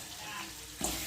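Fish heads sizzling in hot oil in a kitchen pan, a brief steady crackling fry heard up close, with a small spike of spattering near the end.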